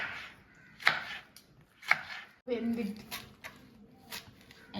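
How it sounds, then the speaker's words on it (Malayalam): Tomatoes are chopped on a cutting board in a home kitchen, with a few separate knife thuds spaced about a second apart. People talk in the background throughout. "നമ്മള് കുറച്ച് ടൊമാറ്റോസ് കട്ട് ചെയ്യണം"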